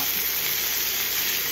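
Loud, steady sizzling of chicken frying in a hot pan, a continuous crackling hiss with no pauses.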